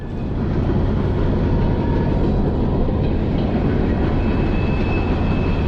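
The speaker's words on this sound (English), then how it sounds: "There's my noisy old train." An old, noisy train passes close to a creek, its loud and steady rumbling roar with rail clatter filling the whole stretch with no voices.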